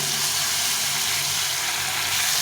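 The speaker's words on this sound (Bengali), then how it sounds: "এক চামচ মতো আদা কাঁচা লঙ্কা বাটা দিয়ে দিলাম এটাকে একটু কষিয়ে নেব" A paste of ginger and green chili sautés in hot oil, a dense, loud, continuous sizzle close up with no talking over it.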